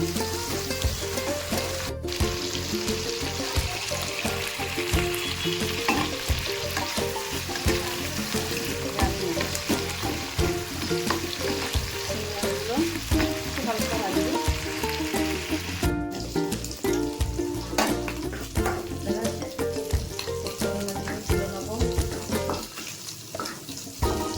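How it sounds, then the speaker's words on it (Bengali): Steady crackling sizzle of food frying in a pan, continuous and fairly close, with occasional clinks and stirring noises, no talking. "ভাজা বসিয়ে দিয়েছি।"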